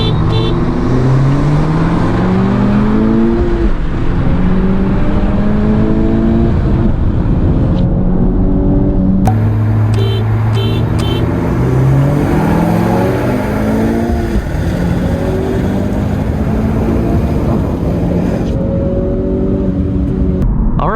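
A 2021 Honda Civic Type R and a Stage 1 tenth-generation Civic Si racing: a loud, close engine climbs steadily in pitch through the gears with a shift break midway, droning continuously for the whole run.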